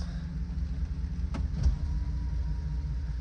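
A car engine idles in drive while stationary, a steady low rumble close by with a couple of faint clicks, no talk over it.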